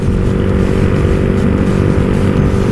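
Close, steady buzzing engine drone of a Honda Wave 125 motorcycle fitted with a 57 mm bore and 28/24 valves, being ridden at a constant pace with no talk.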